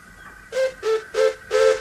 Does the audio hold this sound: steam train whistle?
yes